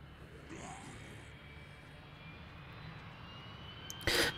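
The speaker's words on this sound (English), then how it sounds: "That's a plane." An airplane flying in the video game Dead Rising 3 makes a faint, distant, steady engine drone, ending in a sudden loud burst.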